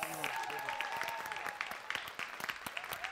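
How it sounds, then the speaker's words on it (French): Audience applause at the end of an improv match: a dense, steady wash of clapping from a crowd, with a voice speaking over it and a few sharper individual claps standing out. "On applaudit tout le monde!"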